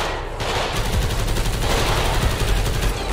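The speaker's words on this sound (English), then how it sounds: "Oh, I hear them shooting, I think they're shooting." Sustained gang shootout in GTA 5, with continuous rapid gunfire and overlapping machine-gun bursts roaring loudly throughout, no voices on top.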